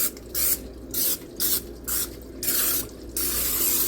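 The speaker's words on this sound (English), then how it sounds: "spray my pan." Cooking spray hisses onto a pan in short, close bursts, about six quick sprays with brief gaps between them, while breakfast casserole with White Castle hamburgers is being made.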